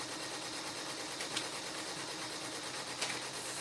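Several embroidery machines run at once while stitching applique on a 12-month shirt, filling the space with a steady, dense mechanical whir and faint periodic clicks, with no voices.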